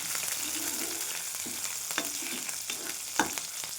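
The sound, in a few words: green chillies sautéing in oil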